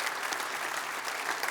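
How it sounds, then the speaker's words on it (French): Steady applause from an audience of alumni at a welcome event, greeting some 80 volunteer ambassadors; continuous dense clapping fills the room without pause and no voices rise above it. "Et on les applaudit. Bravo, les ambassadeurs."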